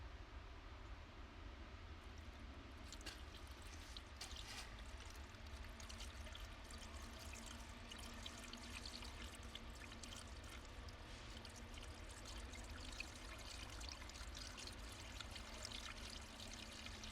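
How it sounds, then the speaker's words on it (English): Windshield washer fluid poured into a car's reservoir, a faint, continuous trickling pour under low background noise, steady with no talking. "we're gonna fill it up with windshield fluid first"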